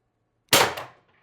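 A TR50 Torpedo CO2 air gun with a tuned barrel fires a single 12.7mm ball bearing, one sharp close crack after a moment of silence that decays within half a second.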